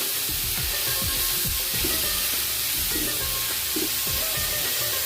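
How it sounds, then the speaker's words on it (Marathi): Konkani-style prawns fry on a hot tawa with kokum, giving a steady, close crackling sizzle that runs the whole time, with faint stirring scrapes over it. "आता आपण कोलंबी घालून घेऊया आणि चांगली फ्राय करून घेऊया"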